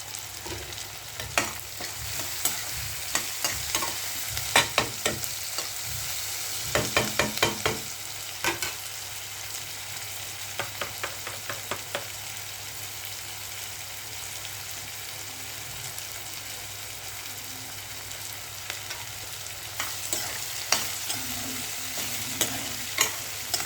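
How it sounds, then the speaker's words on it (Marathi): Chopped onion fries with salt in oil for upma, a soft continuous sizzle punctuated by clusters of sharp spatula scrapes and taps against the pan, close and without voices. "मीठ टाकल्यामुळे कांदा लवकर भाजला जातो"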